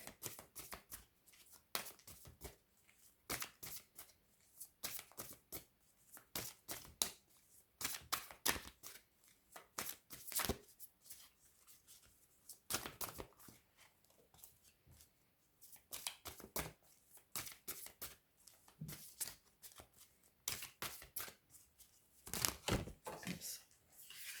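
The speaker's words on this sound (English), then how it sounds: "Now I'm going to pull some cards from the Psychic Tarot deck." Tarot cards from a Psychic Tarot deck shuffled and pulled in a quiet room, a long run of crisp, irregular riffling flicks and soft slaps with short pauses between bursts, close and moderately faint, with no talking.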